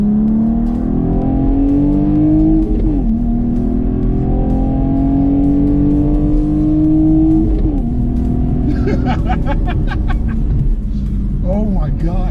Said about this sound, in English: this does have GM Performance dual mode exhaust, wherein it literally sounds exactly like that